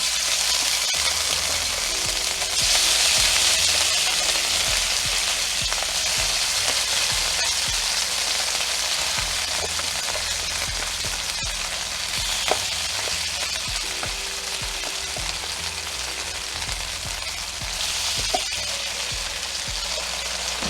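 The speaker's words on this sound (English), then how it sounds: "Now we're going to quick stir fry our shrimp that's been marinating here." Marinated shrimp stir frying in a hot pan at medium heat, with a loud, steady crackling sizzle and intermittent utensil taps and scraping throughout.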